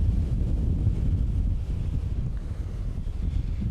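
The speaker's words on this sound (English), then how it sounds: "Dang wind." Strong wind buffets the microphone on a beach during metal detecting, a steady low rumbling roar throughout with no talking.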